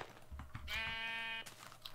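A sheep in the Minecraft video game bleats once: a short, nasal, buzzing cry that sounds close and clear against a quiet background.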